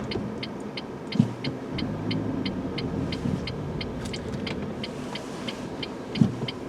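A car drives along a road through a pine forest, its engine a steady low rumble heard from inside, with a regular high ticking repeating throughout and a couple of soft thumps.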